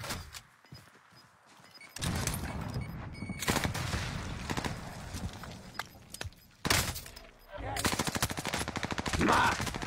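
Gunfire rings out in a video game, with bursts of rapid automatic shots and scattered single cracks that start and stop irregularly at close range, and a voice speaks between them.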